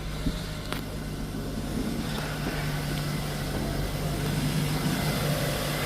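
A 2024 Chevrolet Silverado 1500 2.7 TurboMax engine runs loudly and steadily at idle with a deep, constant drone and a faint whirring, pump-like tone, close by, with no talking.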